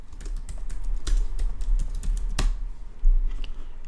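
Close, rapid clicking as a page title is typed on a computer keyboard, with one louder key strike near the end and no voices.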